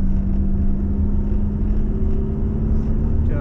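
A Jaguar XJ-S V12 on track at Mallory Park, recorded from inside, hums along with a steady low engine drone and a sustained tonal whine under road rumble, holding a constant pace.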